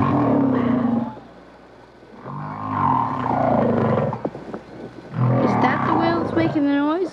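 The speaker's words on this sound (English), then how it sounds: "It's whale song." Underwater whale song: long, moaning tonal calls that rise and fall in pitch, with a groaning low swell and a final upward sweeping cry, loud and close.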